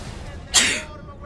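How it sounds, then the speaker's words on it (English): A single short sneeze bursts out near the middle, sharp and close, in a quiet game setting with faint background sound. "Didn't mean to sneeze on you guys."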